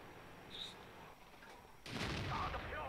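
A tank cannon shot in World of Tanks, a faint sharp boom late in a quiet stretch, followed by a rumbling tail and ringing metallic after-sounds.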